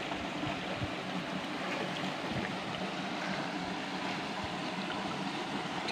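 A village river flows beneath a forested slope, giving a constant, even wash of moving water that stays steady and fairly loud throughout, with no one speaking.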